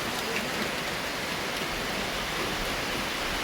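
Rain falls in a dense, even hiss with no breaks, steady and fairly loud throughout the short stretch.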